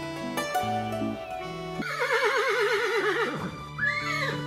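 A horse whinnies loudly in a long wavering neigh that falls in pitch, with a short sharper call near the end, preceded by some tonal musical-like sounds.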